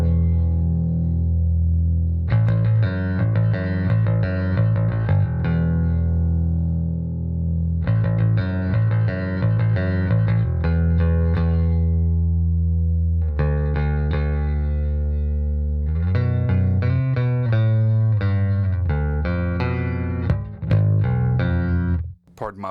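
A 1984 Peavey Foundation bass on its neck pickup, run through a Peavey Max solid-state preamp, plays loud, sustained, effects-coloured riffs in repeated phrases with short gaps, ending in a brief stumble.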